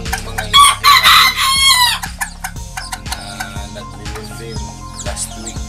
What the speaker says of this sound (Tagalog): Ito po yung mga inahin natin